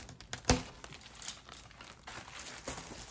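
Tape being cut and pulled off a toy box during an unboxing, a quick sharp snip followed by soft crinkling and rustling of tape and cardboard, close and fairly quiet.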